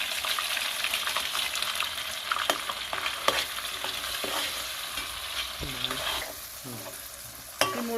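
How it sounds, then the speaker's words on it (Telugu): Ginger, garlic and dried red chilli paste with cashews sizzles steadily in a pan, with a spoon scraping and clinking in irregular strokes as it is stirred, close and continuous. "ఈ 3 కలిపి బాగా మిక్స్ చేసి ఫ్రై చేస్తుండాలి."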